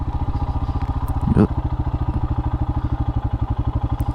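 A Royal Enfield Himalayan motorcycle with an air injection system delete and a booster plug idles up close in a steady, rapid, lumpy thumping rhythm, with one brief louder thud partway through.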